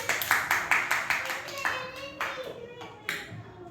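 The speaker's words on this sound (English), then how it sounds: "There you clap for Princey, everyone." Children in a classroom clap together in steady, rhythmic beats that slow and thin out toward the end.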